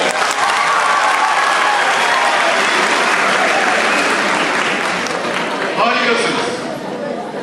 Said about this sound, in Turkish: Sırf bu yüzden bence kendinizi alkışlamalısınız.